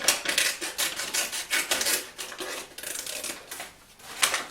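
Scissors snip along the edges of a sheet of paper while making a scrappy sketchbook, a run of close, crisp rustling cuts with brief pauses between strokes, no voices.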